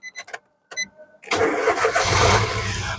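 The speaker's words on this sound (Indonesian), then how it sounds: "Terus barulah kita coba nyalakan mobil." A 2011 Nissan March 1.2 with a manual gearbox starts up: a short whir of the starter motor after a few faint clicks, then the engine catches and settles into a loud, steady idle close by.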